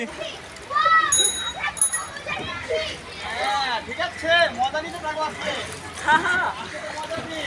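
Feet and wheels splash through flood water on a Dhaka street, repeated sloshing splashes close by while several voices, including a child's, talk and shout throughout.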